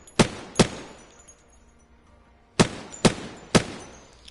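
SMG gunfire in Apex Legends aimed at a moving target 200 meters away, sharp single shots with pauses: two cracks, a gap, then three more in steady succession.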